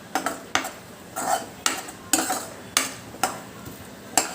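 Coconut and onion paste is sautéed over a low flame, with regular metal spoon scrapes and clinks against the pan every half second or so over a soft background sizzle.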